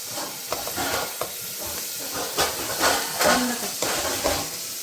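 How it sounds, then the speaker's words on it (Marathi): Vegetables with green chilli and mint paste stirred and sautéing in a pan for soybean biryani, a steady soft sizzle with scraping stir strokes and light clinks, fairly close, with faint voice in the background. "हिरवी मिरची पुदिनावरची पेस्ट आपण लगेचच त्याच्यासोबत ज्या भाज्या मॅग्नेट करायला ठेवल्या होत्या त्या भाज्यासुद्धा आपण लगेच परतून घेणार आहोत"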